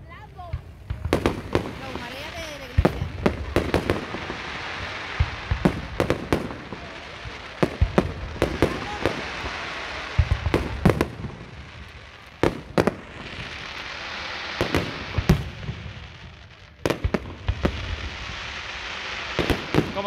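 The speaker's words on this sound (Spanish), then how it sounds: "Los Fuegos de la Feria." Fireworks at the 2022 Utrera fair crack and boom in irregular bursts, sharp loud reports over a rumbling crowd backdrop with voices heard between the blasts.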